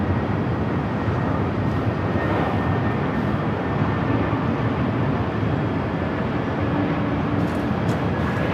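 A Spirit Airlines Airbus A320neo arriving on runway 24 right at LAX gives a steady, broad jet roar that holds level and continuous throughout, with no voices over it.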